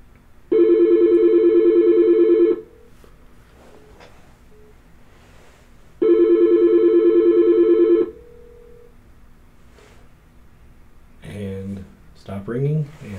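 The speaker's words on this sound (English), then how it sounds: "Ringing, and there we go." An incoming call to a desk phone rings twice in long electronic bursts with a pause between; a voice begins talking right after.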